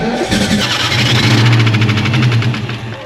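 A Ford SVT Cobra engine cranks and catches into a rough, loud, steady running rumble, heard close up with no voices.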